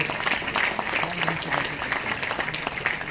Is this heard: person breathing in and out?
no